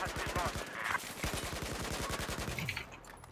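Rapid automatic gunfire in a Battlefield 4 multiplayer match, a fast steady stream of shots lasting several seconds before tapering off, loud and close.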